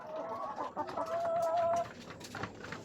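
Backyard chickens cluck and call close by, a short run of throaty clucks with one drawn-out squawk, alone without talk.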